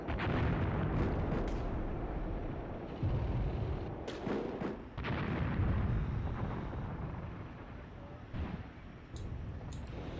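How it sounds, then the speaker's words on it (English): Artillery fire in the wargame Graviteam Tactics, with rumbling distant explosions and booms rolling over a dense battlefield din, punctuated by sharper bursts and pops. "Taking fire. Presumably artillery fire."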